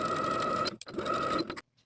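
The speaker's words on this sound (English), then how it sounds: "Now I'll edge stitch along that inner folded edge straight across." Sewing machine edge stitching straight across an inner folded edge of a fabric casing on culotte pants, a steady mechanical whir running in two bursts separated by a brief pause, then stopping.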